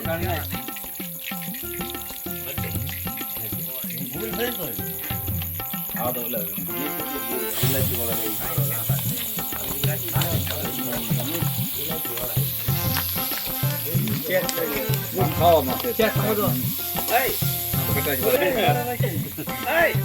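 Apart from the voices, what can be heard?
green chilies frying in oil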